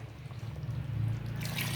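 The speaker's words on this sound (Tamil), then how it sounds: "இப்போ ஜார் அலசின தண்ணி ஊற்றுறேன்." Water left from rinsing a blender jar is poured into half-cooked chicken curry in a pot, a short close liquid pour that gurgles and splashes briefly.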